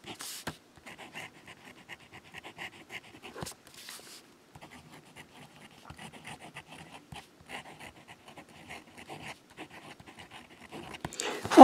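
An extra fine nib pen writes on paper with soft, scratchy strokes in short irregular bursts, faint and close, with small pauses between words.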